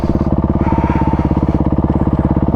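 A dual sport adventure motorcycle idles on a slope, its engine running in a steady, loud, even low thump close by, with no voices.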